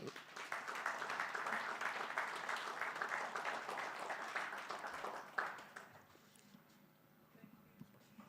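An audience applauds after the Governor's 2025 annual monetary policy statement address. The sustained, dense clapping holds evenly for several seconds, then fades away to near quiet.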